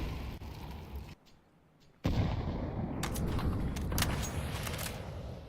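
Sharp gunshots crack from a Counter-Strike match, a quiet gap breaking into a loud burst followed by several rapid, separate shots over a steady background.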